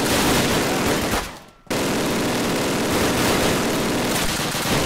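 An MG42 machine gun rips out sustained rapid automatic fire in the WWII shooter Call of Duty WWII, a dense, loud roar that breaks off for a fraction of a second and then resumes unbroken to the end.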